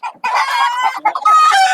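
Country chickens cluck loudly and close by on a village farm, with a burst of overlapping clucks and a drawn-out crowing call near the end.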